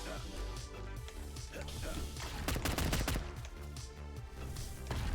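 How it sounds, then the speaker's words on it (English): Rapid heavy bursts from a Predator 50 cal light machine gun fire in a video game, a steady stream of punchy shots at a medium-to-slow rate, mixed with game effects and players talking over it. "I'm using the Predator 50 cal. Light machine gun, Sweet. heavy hitting, medium to slow rate of fire."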